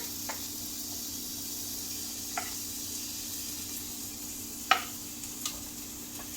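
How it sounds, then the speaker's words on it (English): Onions frying in a hot cast iron pan give off a steady, soft sizzling hiss, broken by a few faint ticks and pops and one sharper crackle. "I want to grill my onions"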